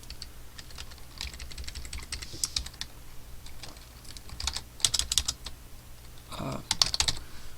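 Steady, rapid clicking of fingers typing code on a computer keyboard, close and fairly quiet, in irregular bursts with short pauses, with a low background hum.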